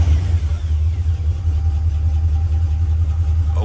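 A Box Chevy with a 350 crate motor rumbles with a deep, close, throbbing engine note that pulses in slight revs throughout, without speech.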